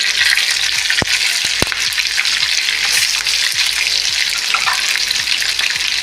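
Chopped shallots fry in hot oil in a pan with a loud, continuous crackling sizzle, and two sharp spatula taps ring out near the start.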